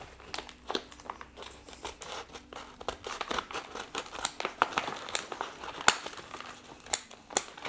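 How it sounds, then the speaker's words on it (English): Bonsai container for a literati style camellia being cut lower and its surface soil removed, a close, quiet run of irregular crinkling, snipping and crunching scrapes with no talk. "I'm just going to cut the container a little bit lower and start reducing some of the soil"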